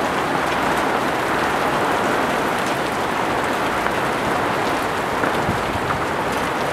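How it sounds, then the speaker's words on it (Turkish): Hail falling during a heavy storm in the Balkans, a dense continuous patter and clatter of stones striking surfaces, loud and steady throughout with no voices. "Dolu yağıyor maalesef."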